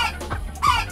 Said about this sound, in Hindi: मुर्गा देखो बोल रहा है